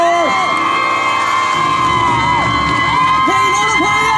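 An outdoor concert crowd in Meinong, Kaohsiung, screams and cheers to welcome a Hakka and Taiwanese singer onstage, a dense, loud, continuous roar with shrill whoops rising and falling throughout.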